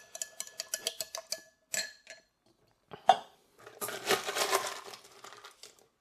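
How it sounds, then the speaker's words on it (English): A spoon clinks quickly in a glass while a dark rum and cayenne cocktail is stirred. A burst of rapid taps is followed by scattered clinks and then a softer rustling swirl, close and quiet, with no talking. "Give it a quick and easy stir real quick."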